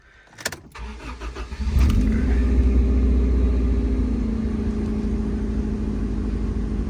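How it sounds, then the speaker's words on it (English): A Honda Civic engine cranks briefly, catches and starts, then settles into a loud, steady idle rumble close by. "Let's try and start the car."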